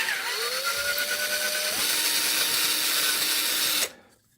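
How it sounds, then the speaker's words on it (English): A power drill bores out holes on a 1991 Takamine TD 32 acoustic guitar: a steady whine that rises in pitch, shifts up once midway, then stops abruptly, close and loud with no talk. "So take your drill and make this a little bigger."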